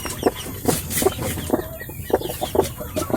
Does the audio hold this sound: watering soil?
no